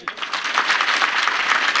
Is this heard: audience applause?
yes